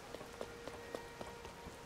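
Rain falls in the video game Tears of the Kingdom near Kakariko Village, a soft steady patter with scattered faint drip-like taps over a quiet, even wash of ambience.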